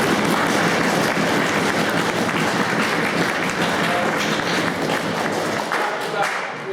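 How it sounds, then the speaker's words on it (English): Attendees at a themed-army tabletop wargaming event give a loud round of applause, dense and continuous, tapering off only at the very end. "Give yourselves a round of applause for that."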